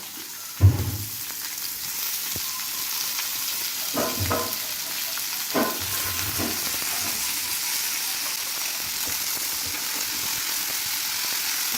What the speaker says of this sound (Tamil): நல்லா வதக்கிடுவோம்.